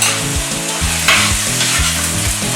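A pounded mixture of garlic, onion and salt is stirred into a hot frying pan for boucané with eggplant, giving loud steady sizzling with rhythmic scraping stir strokes and no voices.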